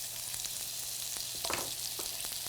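Half an onion cut into wedges fries in hot oil in a skillet, a steady close sizzle with a brief louder hiss burst as the pieces settle, no voices.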